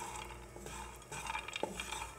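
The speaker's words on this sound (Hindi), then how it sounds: "बादाम, इनको हम थोड़ा सा भून लेंगे" Almonds are stirred in a pan over low heat during light roasting, with faint scraping and soft clinks of a utensil against the pan, quiet and close, with no talking.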